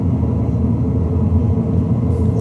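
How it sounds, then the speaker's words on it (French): The engines of a Caravelle airliner roar on takeoff, a dense, loud, continuous low rumble close by, with no voices. "Les moteurs rugissent. L'avion roule sur le tarmac."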